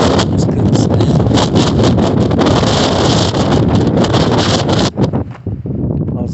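Strong outdoor wind buffets the microphone in a loud, continuous roar with gusty rumble, easing into uneven lulls and bursts near the end.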